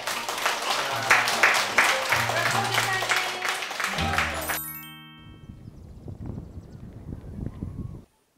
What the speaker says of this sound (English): the class comes to an end with a round of applause